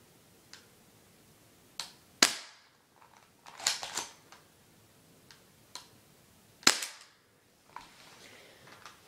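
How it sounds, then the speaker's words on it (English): Three sharp pistol shots fired at a target in a shooting accuracy test, spaced apart with short echoing tails and quieter clicks between, no talking. "we'll be taking some shots at that to test the accuracy. We'll only be taking 3 shots."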